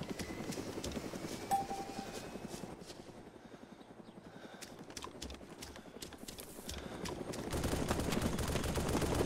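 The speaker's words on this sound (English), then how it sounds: "Is that you shooting?" Rapid bursts of Arma 2 gunfire rattle under the steady thrum of a helicopter, distant at first and growing louder toward the end.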